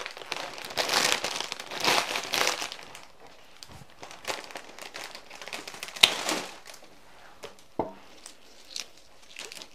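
Foliage being stripped by hand from supermarket flower stems: dense crinkling, rustling and snapping of leaves, busiest at the start and then thinning into scattered crisp snaps and rustles.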